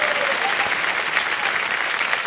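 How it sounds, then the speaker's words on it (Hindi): Loud, dense applause from a studio audience on a televised quiz show, steady and unbroken throughout with no voices over it. "एक बार फिर जोरदार तालियां बज जाए"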